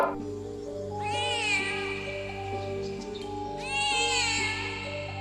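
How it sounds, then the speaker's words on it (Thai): A cartoon cat gives two drawn-out meows, the first longer and the second shorter, loud and close over a steady background tone. "มาแมว เดี๋ยวก่อน นั่นมันใช่แมวจริงเหรอวะ"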